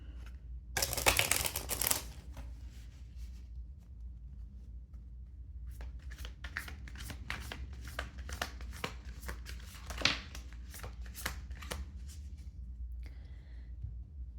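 Oracle cards are shuffled in a quiet room: a brief rough burst at first, then a run of quick soft riffling clicks and taps, close by and faint, with no talking.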